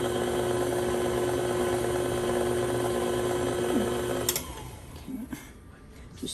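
An electric mixer whirs steadily through apple cider cake batter for about four seconds, a loud even motor drone, then cuts off, leaving faint kitchen clatter.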